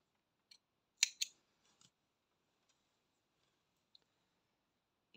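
Scissors snip crochet yarn on a small amigurumi reindeer body, two quick close crisp cuts followed by a few faint clicks in an otherwise quiet room.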